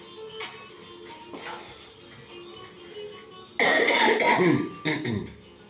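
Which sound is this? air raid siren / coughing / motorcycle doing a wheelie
coughing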